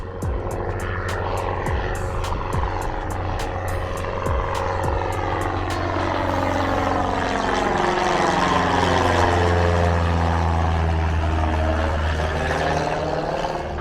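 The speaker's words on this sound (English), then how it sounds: "one's taking off now as we're talking" Loud, continuous roar of an aircraft engine building and sweeping past as a plane takes off, propeller drone shifting in pitch.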